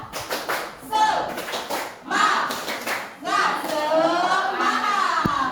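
A junior high class claps a rhythmic chant together, bursts of clapping in patterned groups mixed with young voices chanting along between pauses.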